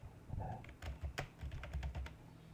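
Quick, irregular key taps on a computer keyboard while a file name is typed for saving a document, a close, faint run of clicks with no talking.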